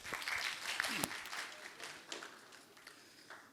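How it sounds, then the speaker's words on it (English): Audience applause at a business innovation hub talk on startup growth fills the room, a dense patter of clapping that gradually fades, with voices speaking over it. "Claps for the brother."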